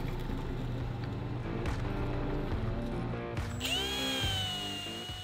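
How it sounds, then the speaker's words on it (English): A drill press bores pilot holes through wood for a small screw organizer cabinet, a steady close motor whine with bit chatter that shifts pitch partway through as the load changes. "Drilling through the pilot holes"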